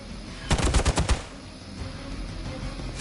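A burst of rapid automatic gunfire in the Midnight Suns video game: about six sharp, loud shots in quick succession, followed by a low rumbling ambience.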